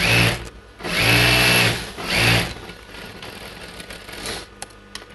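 A sewing machine stitches a churidar pant in three quick, loud whirring runs close by, then continues more quietly with lighter, intermittent mechanical clicks.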